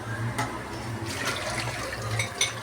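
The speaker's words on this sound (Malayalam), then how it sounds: "നമുക്ക് ഇതിനകത്ത് ആവശ്യത്തിനുള്ള വെള്ളം ഒഴിച്ച് കൊടുക്കാം." Water poured into a pan holding ground coconut spice paste for an anchovy fish curry, a steady low splashing pour running throughout at close range with no talk.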